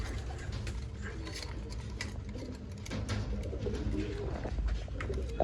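Old line pigeons at a bird sale in Bangalore coo softly and repeatedly in the background, low and steady amid faint ambient clatter.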